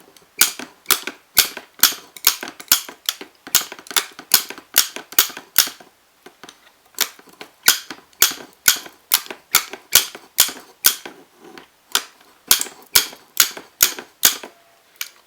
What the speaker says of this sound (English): The faster that I can close this cutter